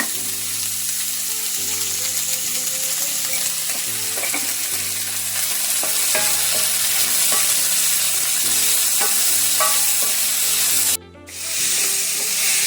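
Onions with a little salt sauté in a pan for a Kerala avoli fish curry, a steady close sizzle punctuated by irregular scraping stir strokes, a low hum beneath and a brief dropout near the end.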